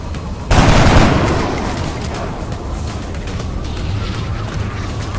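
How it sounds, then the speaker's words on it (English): Gunfire in X-Com opens with a loud, sudden burst aimed at an alien, then settles into a dense rolling rattle of shots and rumble that holds steady through the rest. "So we're going to move over and shoot it."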